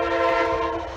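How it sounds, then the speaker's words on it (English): An Amtrak passenger train sounds its horn close by, a loud sustained blast over the rumble of the passing train. "fortunately, that was just a little Amtrak train"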